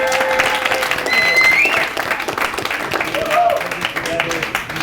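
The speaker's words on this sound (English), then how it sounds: "I want to give a round of applause" An indoor audience at a rabbi's talk breaks into steady applause, dense clapping filling the space throughout, with a few whistles or calls riding over it.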